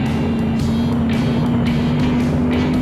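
Roaring NASCAR stock cars race at Michigan International Speedway in 1976, a loud, continuous engine drone with pitch surges as the cars pass close by, and no talk.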